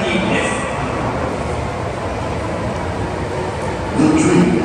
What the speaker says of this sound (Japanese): The train on platform 2 is bound for Kitasende, near Nihonmatsu.